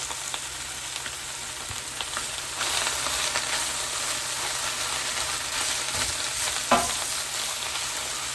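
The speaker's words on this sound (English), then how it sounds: "I'm just going to let that cook down just a little bit. Just till it starts to wilt." Fresh spinach for baked ziti with sausage sizzles steadily in a hot pan as it wilts, a continuous close frying hiss with an occasional stir.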